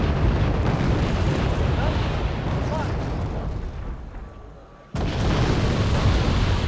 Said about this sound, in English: I am going to mortar these T-64As with my LAVs